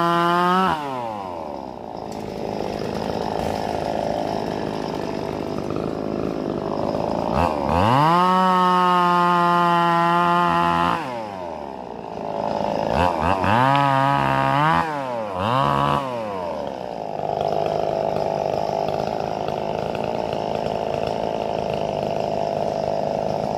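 Chainsaw cutting branches from a row of rubber trees, its engine loud and close as it revs up and down in repeated rising and falling bursts for the whole stretch.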